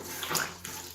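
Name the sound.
cloth dipped into a bucket of water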